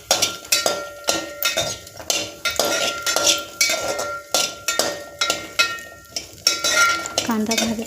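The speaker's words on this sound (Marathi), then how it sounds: "उभा चिरलेला कांदा घातला आहे मी आणि हा भाजून घेऊया" Sliced onion fries in a pan while a spoon scrapes and clinks against the metal in a steady, repeating rhythm, loud and close, with no talk.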